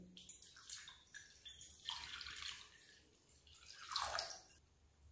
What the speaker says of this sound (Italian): Inizio a versare l'acqua all'interno della bowl.